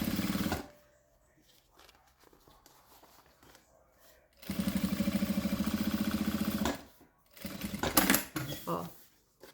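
A sewing machine runs in two steady bursts while stitching the lining of a fabric pencil case, a close, even whir of rapid stitches separated by pauses with quiet handling noises.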